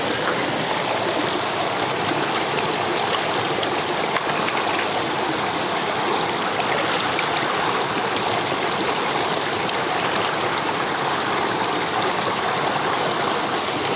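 A river stream flowing at an outdoor bush-cooking spot in Jamaica, a dense, constant rushing wash of water, loud and unbroken throughout with no talking.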